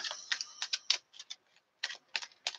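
Tarot cards are shuffled in quick, crisp bursts of riffling and flicking, close and fairly quiet, with short pauses between clusters of card snaps.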